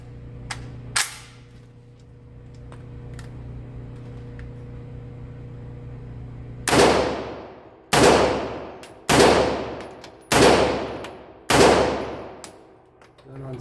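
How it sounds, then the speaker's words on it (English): Five loud unsuppressed shots from a Century Arms AP5-P SBR fired into rubber, evenly spaced about a second apart, each sharp crack trailing into a long ringing decay, preceded by a couple of handling clicks. "5 rounds unsuppressed."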